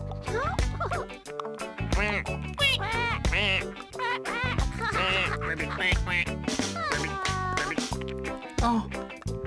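Cartoon ducks in the children's show Maisy Mouse quack repeatedly over busy, constant background music, with the bright calls overlapping one another.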